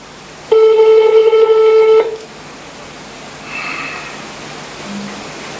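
A mobile phone on loudspeaker placing a call back, a steady loud dialing tone for about a second and a half, then quiet hiss with faint, brief tones as the line rings.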